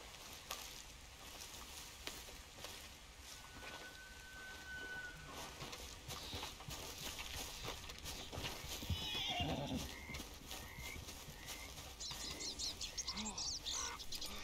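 In the Red Dead Online game world, a horse gives one whinny about two-thirds of the way through. It sits over faint clip-clop, bird calls and a light rain-like ambience, all fairly quiet.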